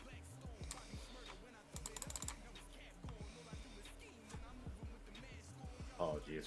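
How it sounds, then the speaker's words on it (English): Rapid clicking of computer keyboard typing, close and fairly quiet, with speech over the keys. "apologies for a little bit of keyboard ASMR"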